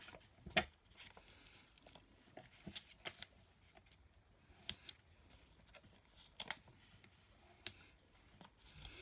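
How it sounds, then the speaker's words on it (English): Scissors snip through paper in sparse, quiet, crisp cuts spaced a second or two apart, set against a faint room background. "So I hope this inspires you to just chop your paper up"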